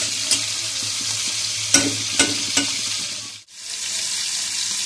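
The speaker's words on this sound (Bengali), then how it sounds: "পাশে আমি কিছু পেঁয়াজ মরিচ দিয়ে একটু লাল লাল করে ভেজে নিব। তেজপাতা এবং কিছু জিরা দিয়ে ভালোভাবে নেড়ে দিব।" Onions and chillies fry with bay leaf and cumin in a pan, giving a steady close sizzle broken by a few sharp stirring scrapes, then a brief drop before the frying hiss returns.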